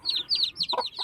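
A mother hen clucks in a coop beside her newly hatched chicks, whose high, rapid peeps repeat in quick chirping bursts close by, with the hen's lower clucks cutting in twice.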